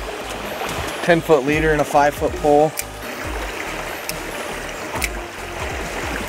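Swift water of the South Holston River rushes steadily in a trout-fishing spot, a constant close wash under a man's speech.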